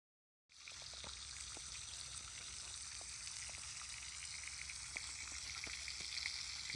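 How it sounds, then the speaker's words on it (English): Bacon sizzles and crackles steadily over an outdoor fire, a dense continuous frying hiss with scattered pops, close and unbroken from start to end. "Nothing like the sizzling bacon over a fire."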